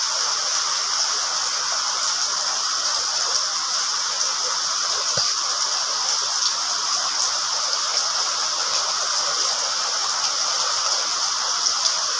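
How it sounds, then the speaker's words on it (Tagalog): Heavy rain pours steadily in a dense, unbroken hiss, loud and constant throughout with no voices. "Patuloy pa rin buhos ang ulan"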